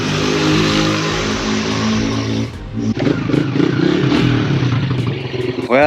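An ATV or dirt bike engine revs hard and close on a test ride, a loud buzzing roar that cuts off abruptly, then returns as choppy, sputtering revving with clatter.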